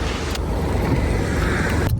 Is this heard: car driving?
yes